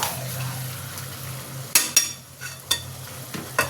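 Onion and potatoes sauté in hot oil for a chicken curry, a steady sizzle broken by several sharp scraping spoon strokes against the pan in the second half, close and alone.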